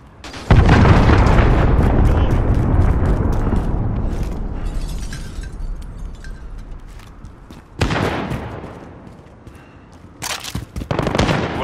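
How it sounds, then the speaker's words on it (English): Cruise missile strikes in the video game Call of Duty Modern Warfare, on the Piccadilly map in Team Deathmatch: a loud, sustained rumbling explosion, then fresh sharp blasts and bursts near the end. "Allied cruise missile away."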